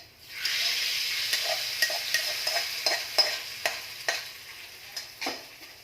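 Dried red chillies frying in hot oil for dal, a steady bright sizzle with repeated clicking scrapes of a spoon stirring in the pan, close and moderately loud.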